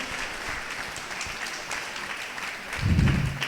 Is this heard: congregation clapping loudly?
yes